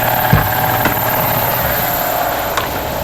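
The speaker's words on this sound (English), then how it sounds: "The compressor kicks on when the other tanks are low." An air compressor refilling tanks drones steadily up close with a low mechanical hum and a constant tone. A couple of brief knocks sound over it.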